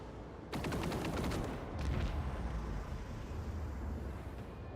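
Interceptor units open fire in a Warhammer 40K game against Drukhari: a loud rapid volley of shots crackles at first, then a dense roar of gunfire and explosions fills the rest.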